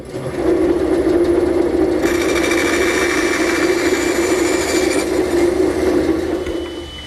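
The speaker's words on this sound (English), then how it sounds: "I've set up a temporary fence here at my bandsaw, and I'll run the piece in until I meet the previous cut" A bandsaw cuts a pine haunch for a tenon, running steadily against a temporary fence: a loud, continuous whirring drone with a sharp onset and an even hum that shifts slightly in tone partway through, with no talk.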